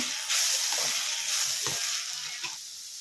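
Egg bhurji sizzles loudly in a pan while being stirred, a constant bright frying hiss broken by a few soft scraping strokes of the spoon.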